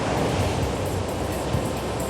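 Winter ocean swell and waves break on the Hawaiian coast at Sunset Beach (Paumalu), giving a continuous, loud, broad wash of surf with some wind and no voices.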